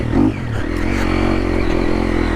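A Triumph TF250E dirt bike lugs along a bush trail in Australia, its engine giving a steady, close, low-pitched drone with a brief rougher burst at the start.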